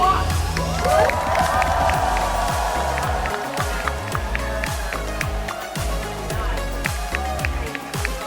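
A convention audience at Star Wars Celebration Japan claps and cheers loudly and steadily, a dense wall of applause with shouts and whoops on top, close and sustained throughout.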